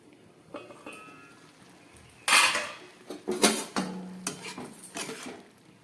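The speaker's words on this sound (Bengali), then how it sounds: "একটা ঢাকা দিয়ে দিচ্ছি, সিদ্ধ করে তারপর দেখাচ্ছি।" A lid goes onto a pot of spinach boiling in a little water, making a burst of metallic clanks and rattles followed by several lighter clinks close by.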